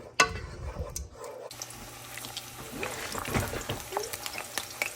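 Black beans with a little water heat in a pan, giving a low bubbling simmer with a soft sizzle, punctuated by a sharp clank and scraping stirs, quiet and close.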